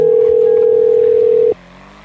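A phone call that fails to connect plays a loud, steady, continuous tone, close and unbroken for about a second and a half, then cuts off abruptly into a quiet room.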